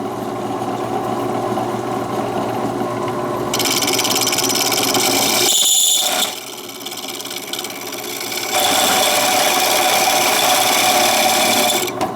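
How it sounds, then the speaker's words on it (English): A power drill bores a hole into a metal bicycle cable stop being modified to fit a Shimano downtube shifter boss; the loud, whining drilling pauses briefly, then resumes with a harsher, higher grind. "So I drilled the hole to the inside there."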